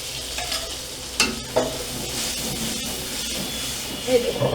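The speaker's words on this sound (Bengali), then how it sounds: "মশলাটা আমি এই দুধ দিয়ে এবার কষিয়ে নেব" A spice paste for mung dal is sautéed with milk in a pan, making a continuous sizzle broken by a few sharp scrapes and clinks of a spoon stirring, close and moderately loud, with no voices.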